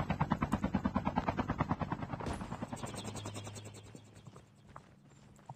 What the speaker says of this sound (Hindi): अपना हेलीकॉप्टर लेकर लाके मैं यहाँ लैंड कर देता हूँ